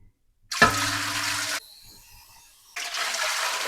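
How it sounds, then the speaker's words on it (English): Water gushes steadily into a pressure cooker for canning for about a second, stops, then flows again in a second strong burst. "And now we put in 3 quarts of water."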